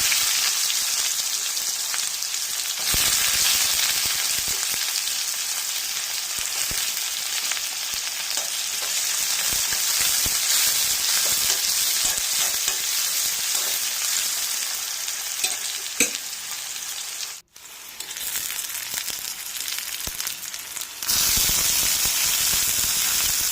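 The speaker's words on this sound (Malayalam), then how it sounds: "അരിഞ്ഞു വെച്ചിരിക്കുന്ന ചെറിയ ഉള്ളിയും കറിവേപ്പിലയും വറ്റൽമുളകും ചേർത്ത് നന്നായി മുപ്പിച്ചെടുക്കാം" Shallots, curry leaves and dried red chillies sauté with popping mustard seeds in hot oil, giving a loud, continuous crackling sizzle with a short dip near the end before it surges back.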